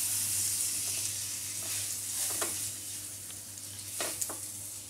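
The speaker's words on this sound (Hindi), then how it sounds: "तो अब हम तवा पर थोड़ा सा बटर डालेंगे" Butter sizzles on a hot tawa griddle, a steady soft hiss throughout with a few light scrapes and ticks from spreading it. No voices are present.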